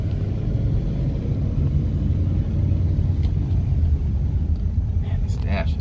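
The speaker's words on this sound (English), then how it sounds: "Let's drive this bad boy." A 1963 Pontiac Star Chief with a 389 V8 and automatic transmission on the road, heard as a steady, close, low engine and road rumble that continues unbroken from inside the car.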